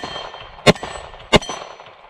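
A bullet strikes an MGM steel gong target twice, each hit a sharp bright metallic clang with a short ringing tail, spaced well under a second apart, set against faint outdoor background.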